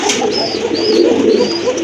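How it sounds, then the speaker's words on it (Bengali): A domestic pigeon in a loft coos repeatedly, close and loud, its calls running almost continuously with a few higher bird chirps over a steady background. "এটা সিরিয়াসলি অনেক ডাকে কবুতরটা"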